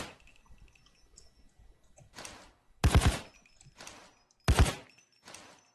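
Short bursts of full-auto gunfire in Payday 2, four or five separate volleys with quiet gaps between them, the middle bursts the loudest.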